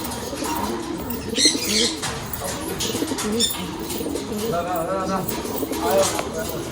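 A pigeon held in the hand at a home loft gives low, repeated coos, heard close up beneath steady talking and faint background chirps.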